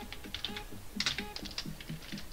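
Rapid, close keystrokes on a computer keyboard while entering Raspberry Pi code, with a brisk, uneven rhythm of crisp clicks and taps.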